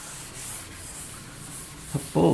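Steady, close scrubbing of writing being rubbed off a board during a maths lesson, a continuous dry swish that ends in a couple of firmer, louder strokes.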